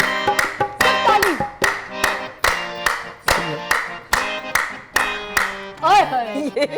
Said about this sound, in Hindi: ये जो ताली आप बजाती है यूनिक स्टाइल है